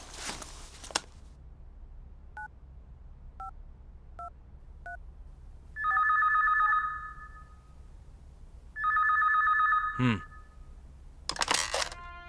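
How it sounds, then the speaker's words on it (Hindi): A telephone call placed after dialing a number: several short key tones, followed by two long ringback tones and a few quick beeps, with brief noisy bursts at the start and end. "उसके नंबर पर फोन करो।"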